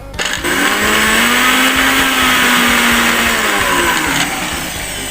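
A repaired fruit blender's motor whirs loudly and steadily for several seconds after a brief start, its pitch holding high before easing off slightly toward the end, with no talking.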